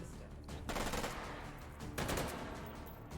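Gunfire from shooting Sosigs in a video game, two bursts of rapid, rattling shots at moderate volume, each tailing off into echo.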